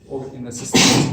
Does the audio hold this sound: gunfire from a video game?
no